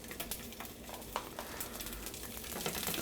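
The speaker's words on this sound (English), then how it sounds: "I want to brown my sausages before I put them in the pot with the sauce." Nine Italian sausages browning in a tablespoon or two of oil in a large hot skillet on the stove, giving a steady, fairly quiet sizzle and frying hiss with a few soft stirring knocks, no talking.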